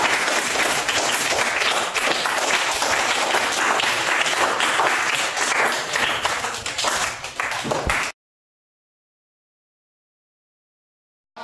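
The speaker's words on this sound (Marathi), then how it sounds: "एकदा शिवमसाठी सर्वांनी जोरात टाळ्या वाजवाव्या" A classroom of children claps loudly for a student who won a math game. The applause is dense and sustained for about eight seconds, then cuts off into silence.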